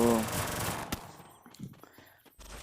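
Gunfire from the Free Fire video game, with a loud burst of rapid shots up front that thins into scattered single shots and in-game effects.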